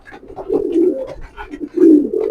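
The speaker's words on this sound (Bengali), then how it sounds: "আজকে সব কবুতরে গোসল করতেছে" Pigeons coo close by while bathing, in soft, throaty bursts, a couple of rolling calls with faint rustling between them.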